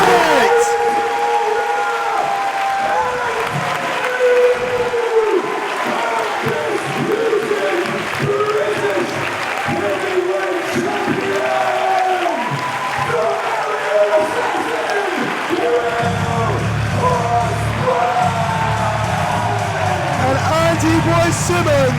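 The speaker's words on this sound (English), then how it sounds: "the crowd explode" A wrestling crowd roars and cheers for a newly crowned British heavyweight champion, a loud sustained din with excited commentary talking over it throughout.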